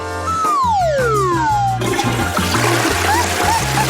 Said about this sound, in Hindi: तुमने इसे फ्लश क्यों किया?